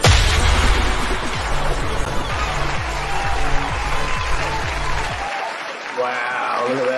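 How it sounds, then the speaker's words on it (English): A crowd applauds and cheers loudly over upbeat music at a show opening, the clapping thinning and dropping away after about five seconds while the music carries on. "Listen to that crowd"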